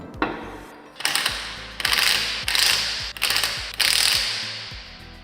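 A ratchet tightens the wheel bolts while the wheel of an Audi A3 e-tron is refitted, making five close, rapid clicking bursts separated by short pauses.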